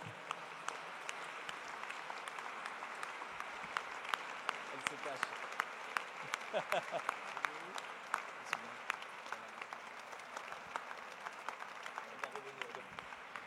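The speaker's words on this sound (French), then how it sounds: "Applaudissez d'ores et déjà Saba Morin" Audience applause at a French conference event honouring Edgar Morin, sustained clapping from a large crowd heard from a distance, fairly quiet, with sharp individual claps standing out and faint voices mixed in.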